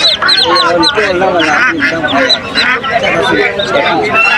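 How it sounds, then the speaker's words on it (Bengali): A crowd of native ducks quacking nonstop, many overlapping calls in a busy, noisy village livestock market in Tinani Bazar, Sherpur, Bangladesh, with human voices murmuring underneath. "এই যে দেখেন এপাশে প্রচুর কিন্তু হাঁস নিয়ে আসতেছে"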